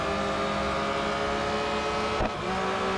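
Porsche 911 GT3 (2021) engine in Real Racing 3, a loud continuous tonal engine drone holding steady near and close, with a brief thump and dip near the end as the car takes damage.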